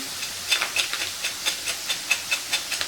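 Oil sizzles and hisses steadily at close range, with faint rhythmic crackles as soybean chunks deep-fry.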